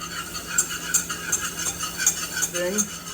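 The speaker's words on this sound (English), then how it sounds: "We're just going to slowly stir in a bit until the consistency of this starts to thicken together." Warm whole milk being slowly stirred into a thickening mixture in a pan, a spoon scraping and clinking against the pot in a loose repeating rhythm, close and moderately loud.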